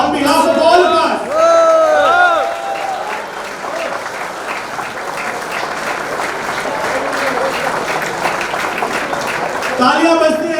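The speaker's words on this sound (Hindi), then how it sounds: "तालियां बजती रहनी चाहिए भारत की इस बेटी के लिए" Audience applause for Manya Singh, Miss India 2020 runner-up, at a felicitation event. Sustained dense clapping fills the whole stretch, with a speaking voice over the start and end.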